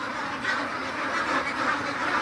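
Hybrid ducks quack steadily on a duck farm, a dense chorus of overlapping calls from a flock at moderate distance, continuous with no talk.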